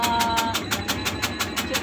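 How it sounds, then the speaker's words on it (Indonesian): A motorized chopping machine runs while shredding taro leaves, giving a steady engine drone with fast, regular rhythmic pulses from the cutting action and some talk in the background. "terhadap mesin pencacah tembakau ini gimana Teh?"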